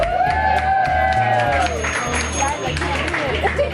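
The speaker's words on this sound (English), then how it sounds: "Let's give everybody a big round of applause." A group gives a round of applause after a kitchen-sink sundae eating challenge. The clapping is brief and mixed with cheering over a thumping music beat and overlapping voices.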